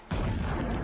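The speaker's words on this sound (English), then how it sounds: "Explosions in the distance." Distant explosions rumble in the video game Horizon Zero Dawn Remastered, a sudden dense boom that rolls on as a continuous low roar for the remainder of a brief moment, with no voices present.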